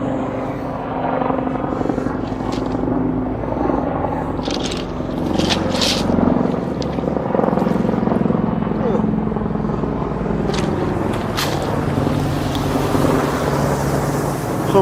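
A helicopter passes overhead above the Thames foreshore, its loud, steady rotor drone filling the whole stretch, with scraping and people talking underneath.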